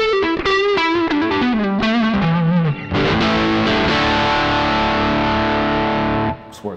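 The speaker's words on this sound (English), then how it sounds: "Rock sound on the neck pickup." An electric guitar on its neck pickup plays through a Tech 21 RK5 Richie Kotzen Flyrig with a distorted rock tone: a bending lead line, then a held, ringing chord that sustains for several seconds before being cut off.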